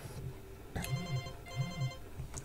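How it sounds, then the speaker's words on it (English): A telephone rings in repeated short trilling bursts, fairly quiet and clear, in an indoor room with no talking over it. "Someone who was ringing me, I just told them to wait a few more minutes."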